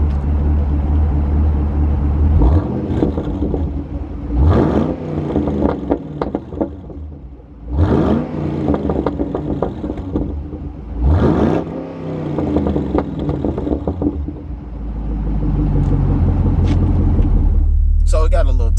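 A 2014 Chevy SS V8 with a muffler delete, its deep exhaust rumbling at idle and rising in several revs that swell and fall back, with someone talking over the engine throughout.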